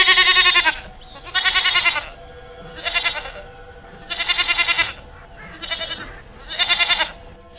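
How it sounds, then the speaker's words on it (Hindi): Several goats bleat in repeated bursts while grazing outdoors, loud and close, with short pauses between calls and no talking. "अपनी बकरियों को चराने के लिए लेकर गई"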